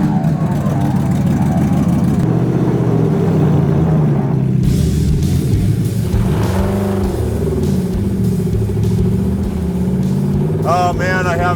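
Superformance MkIII Cobra R with a 5.2 Aluminator V8 making 580 hp, driven hard: a loud, continuous engine roar that rises and falls through revs and gear changes, with voices talking over it.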